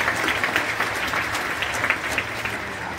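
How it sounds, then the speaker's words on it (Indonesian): A church congregation claps during a sermon, with dense, steady applause from many hands filling the room at a fairly loud level throughout. "Kasih tepuk tangan dulu yang bisa."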